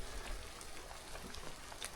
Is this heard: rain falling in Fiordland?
yes